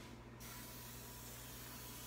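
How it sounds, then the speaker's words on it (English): Cooking spray hisses into a baking pan for brownies, a faint, steady airy spray held for about two seconds, close and alone with no talking. "spray it with some cooking spray."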